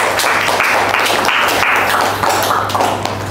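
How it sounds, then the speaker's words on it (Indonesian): Participants in a lecturer training session clap for a classmate, a loud, uneven burst of hands clapping at close range, with a steady electrical hum underneath and no speech. "Tepuk tangan untuk teman kita."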